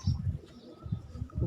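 Old-breed pigeons on a rooftop loft give low, throbbing coos in short pulsing bursts, close and fairly loud, with no speech.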